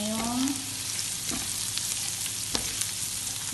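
Garlic and onion frying in a little oil, a close, steady crackling sizzle with a brief stirring scrape and a few sharp pops, no speech.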